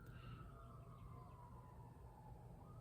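A faint siren wails in the distance, its pitch slowly sliding, heard over a steady low rumble of background noise.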